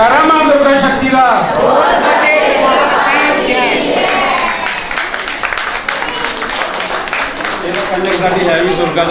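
A crowd of devotees at a Mother Durga gathering during a village bhandara shouts a loud collective chant, voices swelling and overlapping in a dense roar that holds steady throughout, with occasional claps.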